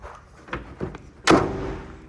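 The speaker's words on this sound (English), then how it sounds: "Let me shut this door here." The door of a 1963 Austin Healey 3000 MKII swings and is shut with one solid, close thud, preceded by a couple of light metallic clicks and knocks from the latch and handle.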